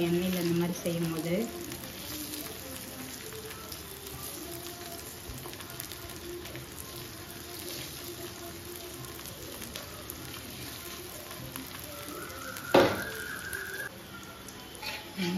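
Taro root pieces frying in oil make a continuous soft sizzle, with a sharp clatter near the end as something is handled, under intermittent nearby talking.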